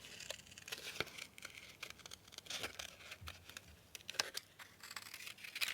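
Small fine-tipped craft scissors snip out a card bird shape for a junk journal envelope, giving quiet, irregular crisp snips and paper rustles close by.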